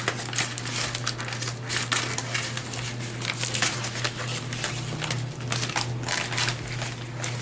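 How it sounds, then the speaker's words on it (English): Scissors crunch and snip through a stiff paper bag, a run of crinkly, crackling cuts close by with irregular rhythm. "Let me just cut it like this from the outside."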